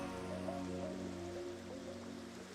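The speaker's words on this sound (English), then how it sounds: "I might just turn off rain in my world." Steady rain from the video game Minecraft hisses softly and continuously in a hardcore world, with a faint low hum underneath and no talking.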